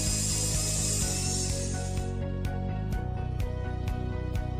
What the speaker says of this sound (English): The first step is to cut the bottom flange of the top clamps that hold the piece.